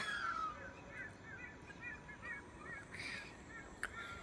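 Birds call repeatedly in the outdoors, a series of short honking, goose-like cries at moderate distance over steady background ambience, with a sharper call near the end.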